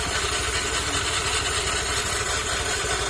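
A motorcycle engine idles steadily up close, a constant low rumble with even pulsing throughout and no voices.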